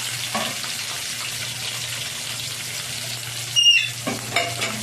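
Onions sizzling and frying in hot oil with whole spices for a fish curry with ridge gourd, a steady close hiss with a brief louder crackle and stir near the end.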